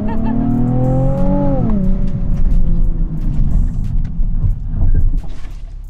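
A 2020 Nissan 370Z NISMO with a manual gearbox roars loudly as it accelerates hard, its pitch climbing then dropping at a gear change before rising again, with rushing road noise.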